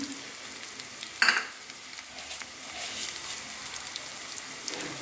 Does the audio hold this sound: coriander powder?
yes